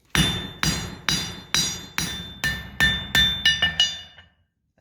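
A hammer forges a thinning steel blade on an anvil: about ten sharp ringing metallic strikes at a steady pace, quickening into a tight cluster near the end before falling silent, loud and close with no talking.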